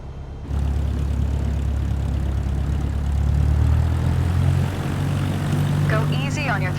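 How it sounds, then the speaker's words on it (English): A simulated propeller aircraft in Microsoft Flight Simulator 2024 hums steadily at idle, then its engine drone swells as the throttle is gently increased for taxiing, with brief chirping tones near the end. "Now, gently increase throttle to get the aircraft moving."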